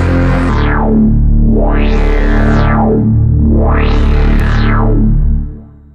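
A thick, buzzing synth bass drone built from a single Alchemy sample in Logic Pro X holds one low note while a filter sweeps up and down three times, giving a growling, wah-like, didgeridoo quality.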